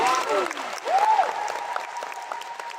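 Audience clapping at a leadership training meeting in Kuala Lumpur, a brief burst of applause with a voice talking over it and a whistle-like tone.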